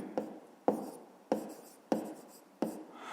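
Pen strokes writing numbers into a notebook while working a fifth-grade maths exercise: five separate, crisp scratching bursts, evenly spaced and close, with quiet pauses between them and no talk.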